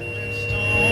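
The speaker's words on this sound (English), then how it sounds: "you hear that beep? That's the last bale for the opening rounds." A steady electronic beep from a New Holland BR7080 round baler signals a finished bale, a continuous tone heard over the low rumble of the running machine.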